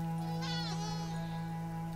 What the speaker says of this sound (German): Boah, so viele Schafe hier.